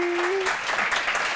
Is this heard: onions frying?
no